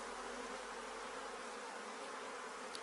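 A dense, steady hum of a honeybee colony in a crowded hive that is outgrowing its space, continuous and even with no pauses, fairly quiet.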